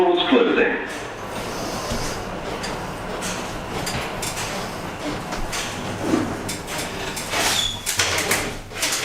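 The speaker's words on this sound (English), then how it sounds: "Doors closing." Lift doors sliding shut at a railway station, a steady mechanical rumble and whir under continuous background noise, with a recorded voice announcement heard over it.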